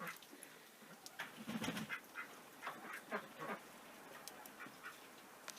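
Ducks quack repeatedly in the distance, a loose series of nasal calls over quiet outdoor background.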